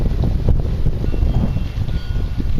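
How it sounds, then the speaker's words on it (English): Loud gusting wind buffeting the microphone, a continuous low rumble that swells and dips throughout. "A little bit windy out here"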